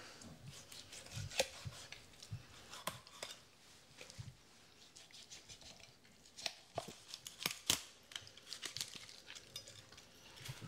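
A smoked duck is cut apart into drumsticks, thighs, wings and breasts, producing quiet, close scraping, rubbing and snipping sounds in irregular bursts with sharp clicks scattered throughout.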